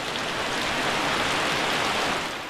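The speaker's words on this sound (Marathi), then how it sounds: "प्रचंड पाऊस पडतोय धोधो पाऊस पडतोय" Steady, dense downpour of heavy rain in a village, a continuous loud hiss with no pauses and no voices.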